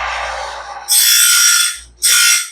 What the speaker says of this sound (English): It's a very minimal grind, but it did not miss the tooth.